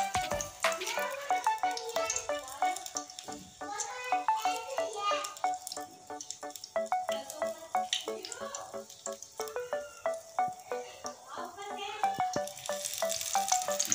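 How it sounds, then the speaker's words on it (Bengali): Yardlong bean pakora fritters sizzle in hot oil in a home kitchen, a close crackling fry with irregular pops and bubbling that runs continuously throughout. "দেখুন বটবটি তেলে পড়ে গিয়েছে"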